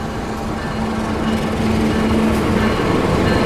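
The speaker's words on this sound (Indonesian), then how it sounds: "dari arah barat masuk suatu kereta api nih" A Wijaya Kusuma passenger train on its Cilacap to Banyuwangi run rolls into the station from the west, giving a steady, loud rumble with a faint sustained hum and no voices.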